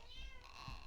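A cat gives a short, soft meow, faint and fairly close in a quiet room.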